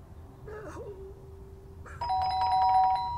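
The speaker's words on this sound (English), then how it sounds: "The doorbell went again" A doorbell rings with a bright, sustained electronic chime, coming in loud after a quieter tone and murmur, over faint room hum.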